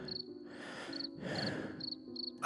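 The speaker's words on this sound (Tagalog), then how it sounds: "Tanging mga kuliglig at hampas ng hangin ang maririnig." Crickets chirping at night outdoors: short, shrill trilling bursts repeat steadily over soft swells of rushing noise like passing wind gusts, with no voices.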